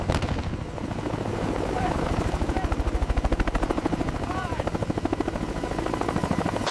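A heavy-lift helicopter's rotor thumps steadily and loudly throughout, with a dense rhythmic chop over low engine roar and voices faintly mixed in.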